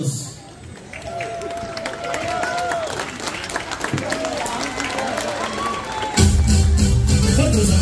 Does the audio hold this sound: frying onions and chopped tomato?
no